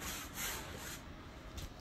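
A tool scrapes through partly dried paint on an abstract canvas, a close, quiet continuous rubbing and scratching texture lasting a couple of seconds with a few brighter strokes.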